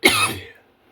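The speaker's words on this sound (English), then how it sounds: "sorry about my coughing" A single sharp cough up close, a harsh burst that fades within half a second into silence.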